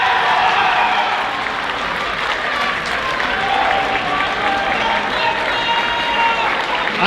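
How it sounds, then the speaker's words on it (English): A school assembly audience cheers and applauds for the sophomore teachers, a steady, loud crowd roar of clapping and shouts that holds for the whole stretch. "So when we announce the sophomore teachers, everybody can cheer them on."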